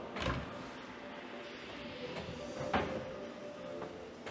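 A kitchen cabinet's lift-up front swings open and shuts, with a soft thump near the start and another muffled clunk midway, faint against a quiet room.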